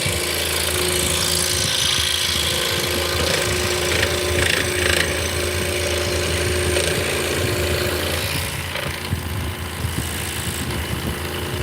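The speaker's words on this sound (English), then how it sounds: "Yes, this is a scroll saw." A scroll saw runs steadily as its blade cuts through wood, giving a continuous close mechanical hum and buzz for the whole stretch with no talking.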